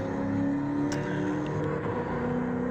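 A 1978 Pontiac Trans Am V8 engine in Gran Turismo 7, a continuous loud droning rumble holding a steady high rev as if cruising hard in top gear, with no talking.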